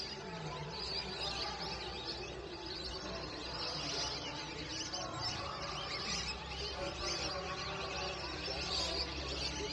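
A faint chorus of a flock of lesser whistling ducks chirping and whistling together at a distance in a protected area, a continuous busy twittering under a low background hum.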